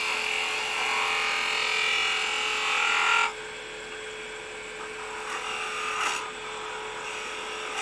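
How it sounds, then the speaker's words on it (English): A spindle gouge cuts a spalted wood candlestick spinning on a lathe, a steady close whirring hiss for about three seconds, then quieter hum with brief light cuts. "go back to the spindle gouge for just a minute and clean this up right here"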